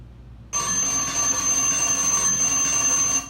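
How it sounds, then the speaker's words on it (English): An assignment timer's alarm comes on suddenly and rings continuously, a loud, steady electronic tone with a buzzing edge that runs on without a break. "And it has a nice little alarm there so you can use."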